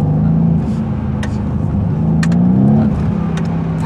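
A Mercedes C63 AMG coupé engine revs through its exhaust with the flap open, a loud, steady, deep roar that swells and dips close by, with no talking over it.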